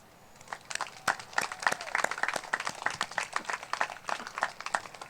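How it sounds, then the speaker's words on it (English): Crowd applause at the 50th annual Let Freedom Ring ceremony, a steady patter of many hands clapping at moderate distance, swelling after the first second and continuing evenly throughout. "Please give a round of applause for each of them."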